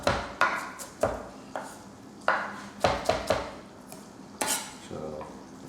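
Sharp knife dicing a peach on a cutting board: a series of crisp, close chops in uneven quick bursts, about ten strikes, with no talking.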